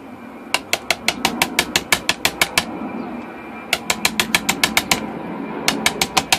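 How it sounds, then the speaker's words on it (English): A small claw hammer strikes a quarter ring to reshape its lip, giving bursts of sharp, evenly spaced metallic taps, about a dozen in a row, then a pause and two more quick runs, close and loud. "we need the small-ass jeweler's hammer, which for some reason is a claw hammer"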